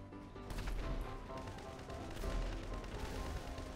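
Gunfire in GTA 5, a dense rattle of shots blurring into a continuous booming crackle that stays loud and busy throughout, with no talk over it.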